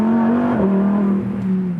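Lamborghini Huracan Evo engine held on light, steady throttle through a corner, a loud, continuous close-up drone that holds a constant pitch, dips slightly midway, then carries on evenly.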